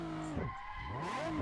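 A car in the Assetto Corsa racing game spins out under held throttle, its engine note swooping down and back up as the tires squeal through the slide, loud and brief.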